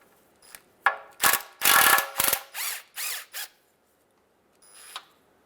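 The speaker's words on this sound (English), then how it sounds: "So now we're just going to continue removing these bolts." Ratchet wrench removing oil pan bolts on a 2003-2011 Honda Element, heard as several close, loud bursts of quick clicking, a pause between some of them, then one fainter burst at the end.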